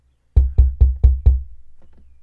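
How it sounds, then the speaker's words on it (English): Five loud, hard knocks on a college dormitory door in quick even succession, close and booming, followed by a fading ringing decay and faint distant voices. "The RAs came knocking at the door."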